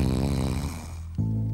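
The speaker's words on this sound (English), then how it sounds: "All I can hear is Slugsy snoring in the hammock." A cartoon slug snores in a hammock, rumbling with a steady rise and fall and then settling into an even drone, close and alone with no talk.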